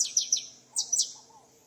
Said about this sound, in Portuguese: É o famoso canário.